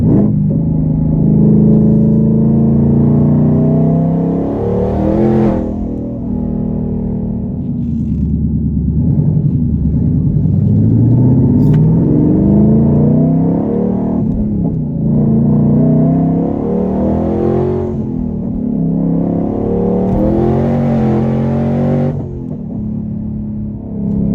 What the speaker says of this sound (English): It's a little droney with the cutouts open, but I mean, hey, they're cutouts, what do you expect? Those rev match downshifts just sound so good.